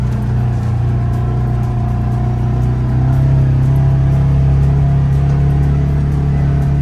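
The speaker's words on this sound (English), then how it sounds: "You can hear the engine revs go up." A Polaris Ranger utility vehicle's engine drones loudly and steadily while climbing a hill at about 6 km/h, its pitch stepping up partway through as the revs climb, with no voices.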